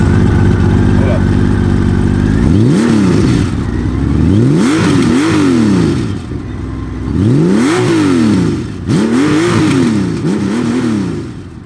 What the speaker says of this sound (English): It's a very quick revving, very responsive motorcycle